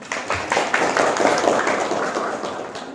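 A group of students in a classroom breaks into applause, a loud burst of clapping that carries on steadily for a few seconds and then tapers off.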